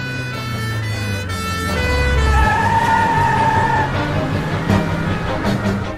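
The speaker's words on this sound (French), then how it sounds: "C'est l'ambulance du docteur Boula Chaka!" A wailing ambulance siren rises and falls over rumbling road traffic, fairly loud and steady throughout with no talking.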